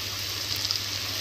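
Water is poured into a cooking pan holding chopped tomatoes, making a steady close rush of liquid through the whole moment without any voices.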